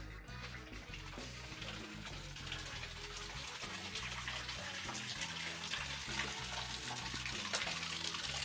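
Paťov potok, a stream in Romania, rushes and gushes continuously nearby, a dense, steady wash of flowing water with no pauses.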